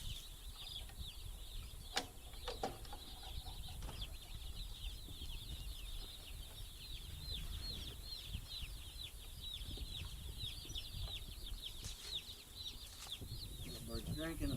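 Dense, continuous high peeping from a large flock of Cornish Cross chicks in a pallet-and-scrap-lumber brooder, steady throughout with occasional scuffs and light knocks, with no talk over it.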